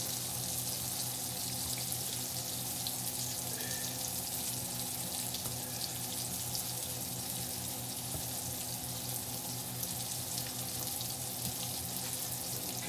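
Tap water runs steadily into a kitchen sink while hands are rinsed, a continuous soft splashing hiss with no pauses, fairly quiet and even throughout.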